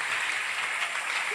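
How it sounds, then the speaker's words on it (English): Applause from a worship gathering after a choral performance, a steady dense wash of clapping that holds at an even level through the short stretch. "Clap for them, please."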